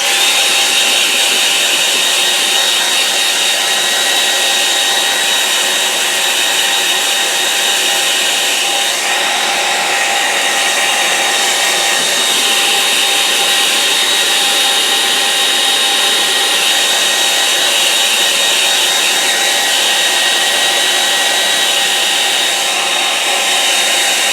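A hair dryer blows steadily and loudly at close range for the whole stretch while drying a wet watercolour painting, a constant whooshing roar with no talk over it.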